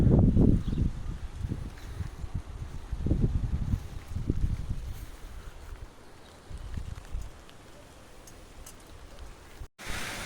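Gusty wind over a vineyard rumbles and buffets the microphone in uneven bursts, loud at first then easing, with a faint patter and no voices.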